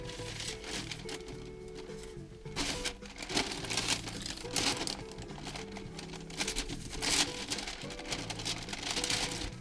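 Paper being handled, smoothed and glued onto a box while making a homemade mini photo light box: soft, quiet crinkling and rustling in bursts over faint background music.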